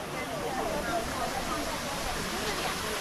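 Water from the Houdongkeng waterfall in Yilan, Taiwan rushes as a steady, broadband roar heard from just above the falls at a crowded tourist spot. The sound stays constant and fills the whole clip.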